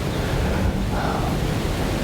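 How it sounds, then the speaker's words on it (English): Strong wind roars steadily into the microphone, a dense low rumble with no pauses, and no voices. "It's still extremely windy out."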